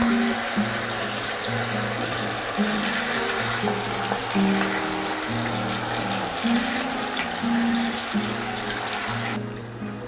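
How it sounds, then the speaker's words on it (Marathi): Batter-coated cauliflower deep-frying in hot oil, a steady loud bubbling hiss that holds constant and close for ten seconds without any speech. "आता हे पण आपण तळून घेऊयात"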